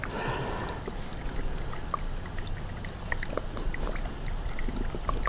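Worcestershire sauce pours in a steady liquid stream into a bowl of ketchup for a shrimp and vegetable sauce, a continuous soft gurgling trickle lasting several seconds with no talk over it.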